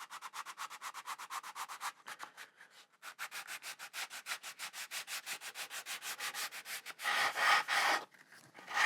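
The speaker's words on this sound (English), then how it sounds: "I'm not pressing too much, I'm letting the sandpaper do all the work." Sandpaper rubs back and forth by hand across a guitar body in a quick, even rhythm of close scratchy strokes, with a brief pause, a few heavier passes near the end, and no talking.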